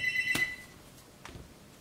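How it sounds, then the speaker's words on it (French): A Meizu M2 Note smartphone rings indoors with a bright electronic ringtone, a sharp tonal burst followed by a softer repeat, nearby and clear with no talking over it. "Le téléphone sonne, c'est pas bien grave"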